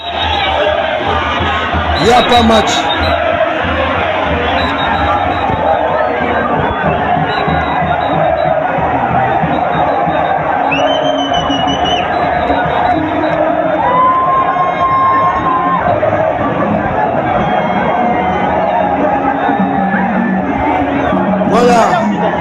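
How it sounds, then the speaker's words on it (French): Large crowd at a Moïse Katumbi election rally in Kolwezi, cheering and shouting in a dense, continuous roar with whistles and whoops, a voice talking over it throughout. "Regardez la foule."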